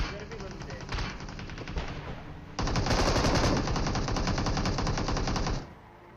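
Rapid automatic gunfire rattles continuously in a BGMI (PUBG Mobile) match, growing louder and denser midway as two sides exchange fire, then cutting off abruptly.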